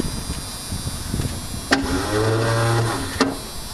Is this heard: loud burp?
no